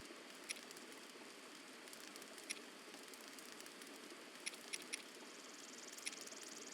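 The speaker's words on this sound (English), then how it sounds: "since it's raining" Rain falls steadily in a quiet, even patter, with a few faint isolated drip clicks standing out.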